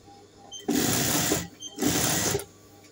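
A sewing machine stitches elastic onto a pair of pants in two bursts of rapid whirring, each about a second long with a brief pause between, close and clear.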